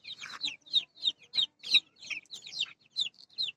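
Nineteen-day-old tiger chicken chicks peep in quick, high chirps, a busy close cluster of calls repeating steadily during hot weather.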